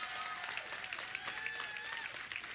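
An audience at a church service claps and cheers in a steady wash, with occasional brighter shouts or whistles rising over the continuous applause throughout.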